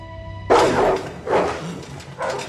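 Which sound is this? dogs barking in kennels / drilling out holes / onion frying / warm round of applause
dogs barking in kennels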